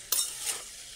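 Cauliflower pieces frying in oil and being stirred, two quick sizzling swishes close by over a faint background hiss, with no talking.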